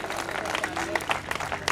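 A crowd at a stage event in Nawada gives a short burst of applause to welcome a guest. Many separate claps can be picked out within a lively, moderately loud spread of clapping.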